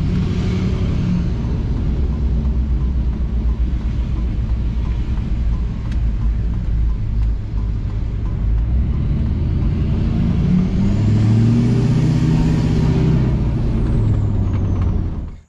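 A diesel truck engine fitted with an AirDog DF-165-5G fuel system runs with a steady, heavy rumble, close and loud, swelling slightly partway through without any talk.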